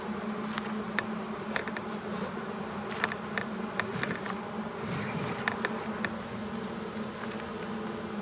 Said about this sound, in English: There's a good bit of bees in here.